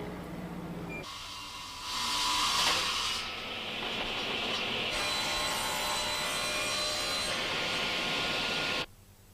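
A machine saw cuts wood for piano cabinets in a factory, a loud steady rasping drone that starts abruptly, swells briefly, holds for several seconds and then cuts off.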